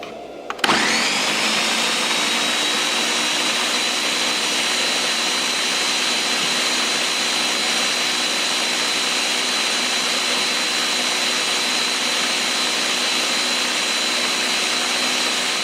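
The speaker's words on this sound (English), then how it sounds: "So let's go ahead and blend it, y'all." A small kitchen blender whirs through cut vegetables for a chicken stew sauce, switching on abruptly and then running as a loud, steady motor drone for the full length with no talk.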